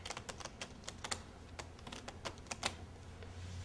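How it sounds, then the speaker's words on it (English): Playing cards being shuffled by hand, a run of quick crisp riffling snaps and flutters, close and fairly quiet, with no talking. "I'm going to shuffle the cards like this."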